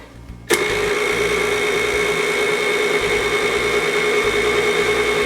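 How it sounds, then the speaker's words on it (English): A stand mixer switches on after a brief quiet moment and runs steadily on low, kneading egg noodle dough with a constant whirring motor drone and a high gear whine, close and loud. "we'll turn on the mixer and mix this up on low"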